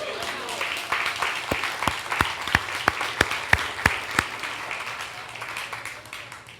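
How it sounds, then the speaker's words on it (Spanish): A church congregation applauds during a worship service, a crowd's clapping with several sharp, evenly spaced louder claps cutting through, while a voice speaks over it before the applause thins out. "Denle un aplauso"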